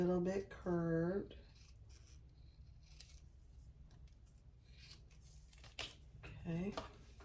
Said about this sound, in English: on the bottom here, I'm going to just use my scissors because it's a little bit curved